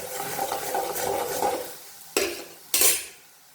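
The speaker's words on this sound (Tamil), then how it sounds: "தண்ணி கொதிக்குது அதில் சால்ட் போட்டுக்கலாம் போட்டாச்சு இப்போ இது கலந்து விட்டுக்கலாம்" Spoon stirring salt into a pot of boiling water, a steady bubbling churn followed by two sharp metallic clinks against the pot, close and alone.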